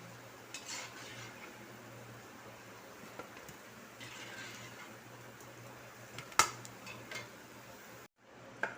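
Cooked carrot masala balls are moved from a pan onto a plate with a few faint, scattered utensil clinks, one sharper tap standing out against a quiet kitchen hum.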